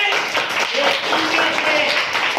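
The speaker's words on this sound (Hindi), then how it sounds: "तो एक बार जोरदार ताली बजा दें।" An audience claps loudly at a Hindi-language talk on the constitution, a busy patter of hands mixed with voices speaking over it.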